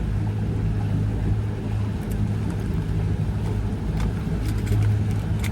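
A car or truck driving along a road, a steady engine rumble and road noise running continuously, fairly loud and close, with no talk over it.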